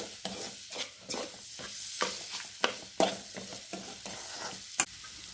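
Chicken curry masala with chilli powder sizzling in a pan as it is stirred by hand, scraping strokes coming in an irregular rhythm over a steady low frying hiss, close and moderately loud.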